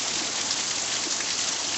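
Steady rain pours down during Hurricane Ian, a dense, even hiss of drops on surfaces that holds at constant loudness with no breaks or voices.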